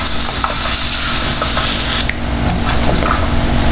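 Onions sauteing with turmeric powder in a hot pan give a loud, steady close sizzle, with occasional light clinks of a spoon stirring against the pan.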